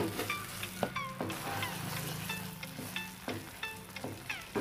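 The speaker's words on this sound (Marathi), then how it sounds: "अगदी बारीक गॅसवर आपल्याला खवा परतून घ्यायचा आहे." Khoya roasting in a pan over very low heat, giving a gentle sizzle broken by repeated clinks and scrapes of a spatula against the pan.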